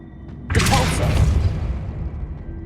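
A Depulso force spell cast in Hogwarts Legacy, heard as one loud booming burst after a brief lull, trailing off into a long rumbling decay. Game sounds only, no one speaking.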